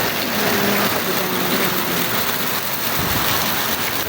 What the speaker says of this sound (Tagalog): Kaya yan, binigyan sila ng ulan na malakas.